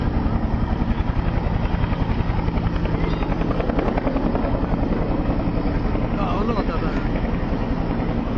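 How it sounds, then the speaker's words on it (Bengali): A Bangladesh Air Force training helicopter takes position at an airport during a fire emergency, its rotor and engine a steady loud drone with fast blade chop throughout, some voices faintly underneath. "হেলিকপ্টারটি"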